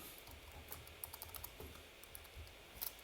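Soft, quick tapping on a computer keyboard as a name is entered into a user profile form, an irregular patter of keystrokes over a faint steady hum, quiet and close.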